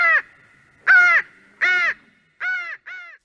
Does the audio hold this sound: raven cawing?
yes